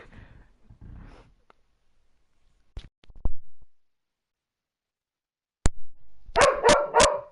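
A house dog lets out a quick run of three or four loud, close barks near the end, after mostly quiet moments with a few faint knocks.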